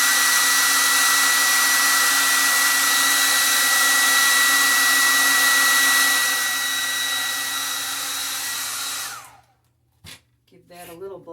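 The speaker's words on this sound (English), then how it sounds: "That's why it's nice to keep a hairdryer here, right near where you're painting." A hair dryer blows close and loud on wet paint, a steady whooshing roar that runs continuously and then cuts off, followed by a little speech.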